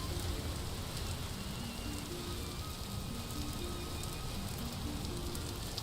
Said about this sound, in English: Now I'm just in the last bits of a regular storm.